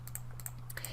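A computer keyboard shortcut being typed, a quick run of light, close key clicks in an irregular rhythm, quiet and with no talking.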